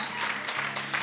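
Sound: applause

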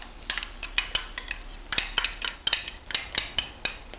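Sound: garlic and red onion sizzling in canola oil

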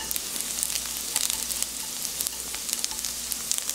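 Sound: anchovies sizzling while stir-frying in oil

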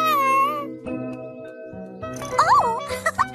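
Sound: cartoon cat meowing

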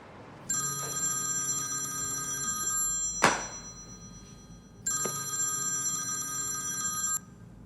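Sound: telephone ringing while placing a call

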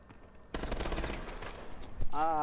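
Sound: sniper rifle gunfire in a video game

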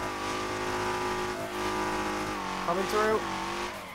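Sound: car engine and tire skid while drifting in video game Torque Drift 2

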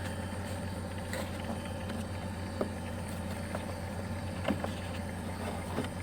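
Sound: Chery Amulet car fuel pump buzzing

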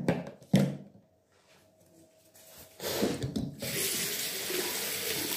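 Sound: tap water running into a sink while washing face

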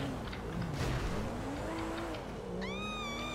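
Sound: car engine in video game

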